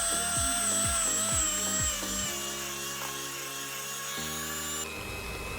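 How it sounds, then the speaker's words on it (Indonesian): An electric hand mixer beats pukis batter in a bowl, its motor whirring steadily and close, with rhythmic bumps early on before it settles into an even drone whose pitch shifts near the end. "Sambil terus dimixer. Dimixer hingga semua tercampur rata."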